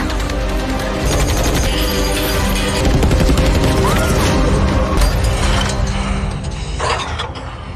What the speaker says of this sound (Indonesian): sementara Jack terus menembak